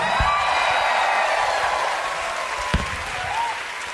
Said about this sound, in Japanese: 皆さん大きな拍手。